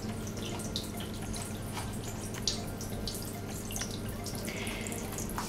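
Water trickling down a small indoor decorative waterfall in a room among houseplants, a continuous splashing babble with scattered drips, steady and close throughout.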